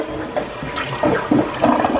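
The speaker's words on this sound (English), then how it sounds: "Let's give it a good flush." A household toilet flushes nearby: a gurgling, splashing rush of water that surges in uneven bursts for a couple of seconds, with no voices.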